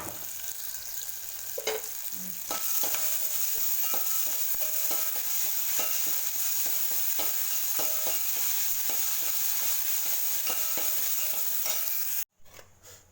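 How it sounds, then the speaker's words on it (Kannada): Vegetables seasoned with salt are stir-fried in a pan for leftover chapati tiffin, giving a steady close sizzle with repeated scraping stirs throughout and no talking, ending in a short pause. "ಸ್ವಲ್ಪ ಉಪ್ಪು ಹಾಕ್ಕೊಂಡು ಮತ್ತೆ ಬೆನೀರಿ"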